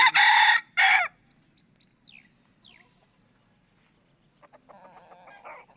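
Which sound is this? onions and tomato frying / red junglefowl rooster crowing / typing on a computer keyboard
red junglefowl rooster crowing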